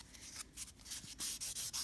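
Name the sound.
sanding block buffing and smoothing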